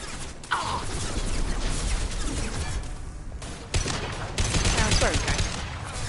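Gunfire crackles in the video game Mass Effect 2 as a dense, chaotic fusillade of shots and impacts, loud and continuous with sharp bursts and crashes, while a voice speaks intermittently over the combat.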